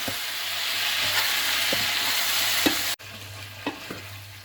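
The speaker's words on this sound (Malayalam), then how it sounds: "നന്നായിട്ട് മിക്സ് ചെയ്ത് കൊടുക്കാം" Pork and plantain curry is stirred in a pan, making a continuous close sizzle with periodic soft scraping strokes of the spoon and a brief break partway through.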